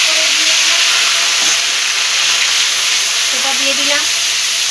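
Ginger paste frying in hot oil with black cumin seeds, a steady loud sizzle and hiss throughout, with someone speaking briefly over it.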